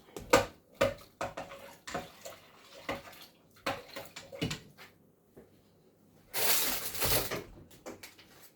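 Frozen carrot and turnip pieces tumble into a soup pot for pea and ham soup, a run of close clattering knocks and rattles followed by a short burst of rushing, splashing noise.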